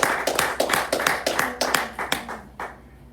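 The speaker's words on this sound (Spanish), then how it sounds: "Ríndale un fuerte aplauso a nuestro Dios." A church congregation claps in a steady rhythmic beat during a Spanish-language worship service, the applause close and lively before thinning out and fading at the end.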